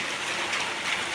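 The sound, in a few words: rain with small pieces of ice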